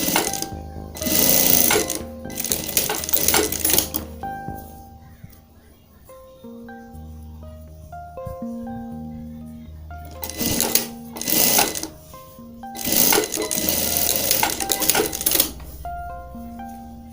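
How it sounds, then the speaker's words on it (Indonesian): Sewing machine stitching old denim jeans into a wallet, several rapid whirring bursts of stitching separated by pauses, close up, with a voice talking over parts of it and music underneath. "Lalu kita jahit di bagian sisi kiri dan sisi kanan."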